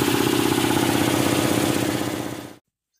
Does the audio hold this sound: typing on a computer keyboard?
no